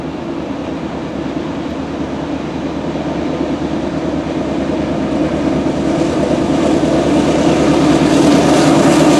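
BNSF 4708, a GE C44-9W locomotive, hauls a train past in a steady rumbling drone that grows gradually louder and closer over several seconds, with no voices.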